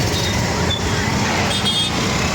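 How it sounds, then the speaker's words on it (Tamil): Dense, heavy city road traffic in a busy shopping street, a loud continuous roar of engines with a few short horn toots rising above it. "செம்ம டிராஃபிக்"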